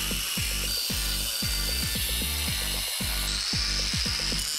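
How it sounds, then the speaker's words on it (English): A small angle grinder cuts through a steel joist, its motor whining loud and continuous with repeated rhythmic dips and surges in pitch as the disc bites into the metal. "Using this small grinder here, I cut out some parts of the steel joist that I had laying around."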